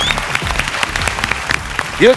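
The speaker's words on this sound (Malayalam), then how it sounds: "ഒരു വലിയ കയ്യടി" Comedy show audience clapping at a steady, dense rate at full volume, with a brief voice rising at the very end.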